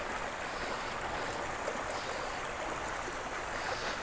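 Clear stream water rushes over stones on the Rudradhari waterfall trek near Kausani, a steady, even wash of broadband flow, moderately quiet and unbroken.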